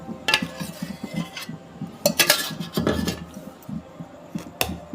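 Metal cooking vessels and utensils clink and clatter close by in a home kitchen in irregular bursts, with scraping and knocking between the louder hits.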